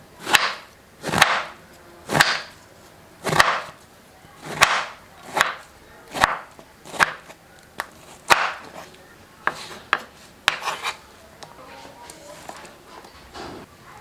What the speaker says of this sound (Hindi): तो अब अमरूद जो हैं ये काट लेंगे।